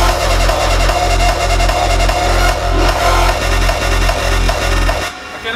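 An electronic track build-up driven by a steady four-on-the-floor kick drum under thick, noisy synth layers, loud and relentless, cutting out abruptly at the end.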